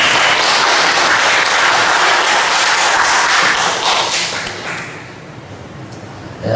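A church congregation claps together in a dense, loud burst of applause that holds steady for several seconds and then fades away.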